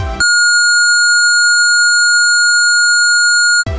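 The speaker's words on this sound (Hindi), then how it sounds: "बायोस को जैसे ही पता चलता है कि आपके सिस्टम में रैम नहीं है वो एक कंटिन्यूसली बीप की आवाज़ देता रहेगा" A single long, steady electronic beep from a computer's BIOS when no RAM is installed, loud and unbroken for about three and a half seconds, with brief noise at the start and the end.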